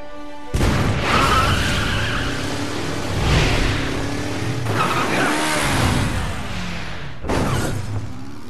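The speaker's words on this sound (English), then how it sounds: "Obligatory vehicle scene." A car skids with squealing tires during a vehicle sequence in the video game Resident Evil 6, with loud sustained engine roar and screeching that surges and fades in waves, then cuts out and briefly returns near the end.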